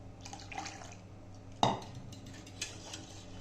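Milk for fruit custard being stirred over low heat, quiet spoon movements in the pot with one distinct metallic clank midway and a softer knock later.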